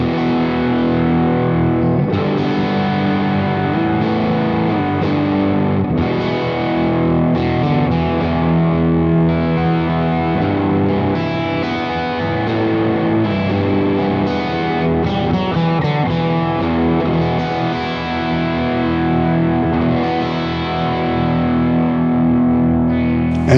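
Distorted electric guitar played through a Quad Cortex modeler powered by a Cioks power supply, sustained chords and riffs ringing loud and continuous throughout with no talking.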